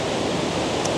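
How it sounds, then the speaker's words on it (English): Waterfalls in Glen Etive, Scotland, give a loud, steady roar of falling water that sounds close and continuous, with no talking over it. "I've just found myself at some waterfalls"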